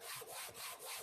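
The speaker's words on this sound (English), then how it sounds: "Endgrain does not sand super fast." Hand sanding of end grain wood veneer on a cabinet back, four steady back-and-forth abrasive strokes, close and even, with no talk.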